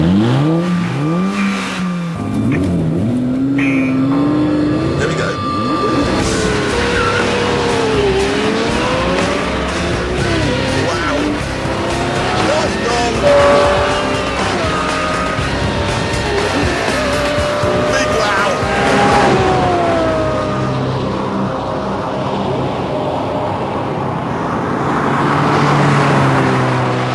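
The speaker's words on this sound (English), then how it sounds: "What you do is you hit the sport button, Murcielago, turn the traction control off, and then floor the throttle." Lamborghini Murcielago doing a launch-control start at full throttle with traction control off: the V12 revs, the clutch bites, and the engine pulls hard through rising gear sweeps with tire noise, loud and close, with someone talking over it.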